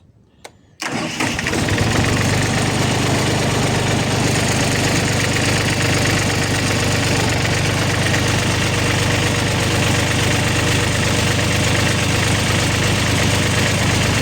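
Engine of a newly bought tipping trailer's hydraulic lift setup, low on oil, fires up after a brief quiet start and keeps running loud and steady nearby while the trailer body rises, with no talking.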